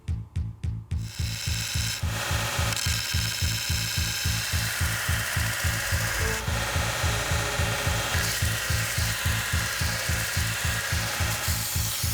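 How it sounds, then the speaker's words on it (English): A forged kuro-uchi nakiri kitchen knife blade is ground to its final shape. A loud, continuous abrasive grinding roar is driven by a strong, steady pulsing rhythm of several beats per second, close up and with no voices. "we'll grind them to the exact shape, dimensions that we want"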